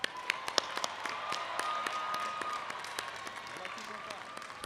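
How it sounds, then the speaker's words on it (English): Scattered applause from an audience at a university commencement ceremony, with sharp individual claps rising over a steady background of crowd noise, fairly distant and moderate in level. "Another round of applause for our honors graduates."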